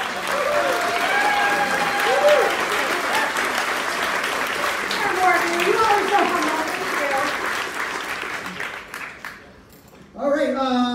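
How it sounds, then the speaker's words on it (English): An audience at the Orlando Fringe festival gives sustained applause, a dense, loud wash of clapping lasting about ten seconds with voices and cheers mixed in, fading before a speaker starts talking. "We're going to give you a round of applause too."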